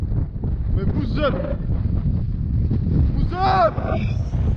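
Strong, gusty wind buffets a microphone high on a mountain pass, a constant low roar with voices breaking through it.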